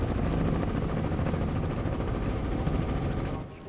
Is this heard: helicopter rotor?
yes